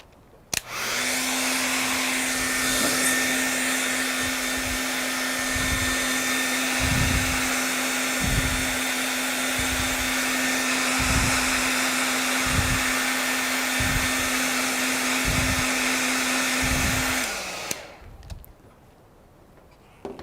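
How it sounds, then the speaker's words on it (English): A hair dryer roars steadily at close range for about seventeen seconds while drying paint on a painting, with faint rhythmic knocks beneath it, then cuts off. "I'm actually going to take my hairdryer and just dry this edge really quick."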